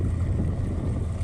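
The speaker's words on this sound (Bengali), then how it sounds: "দেখো আরেকটা জাহাজ যাচ্ছে।" Steady low rumble of a ship passing on the water, heard from nearby as a continuous loud drone with wind noise and no break.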